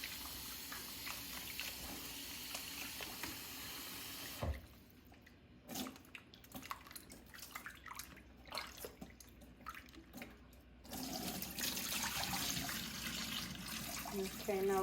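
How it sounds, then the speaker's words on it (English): Water trickles and drips as it drains from raw chicken tenders in a kitchen sink. The sound is a faint, close splashing that pauses briefly partway through and then resumes as a steadier flow. "Make sure you drain all the water from it."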